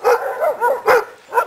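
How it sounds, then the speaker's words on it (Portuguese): An aggressive dog that dislikes being confined barks and yelps repeatedly in a quick, uneven series of loud, close barks. "O cachorro está muito agressivo,"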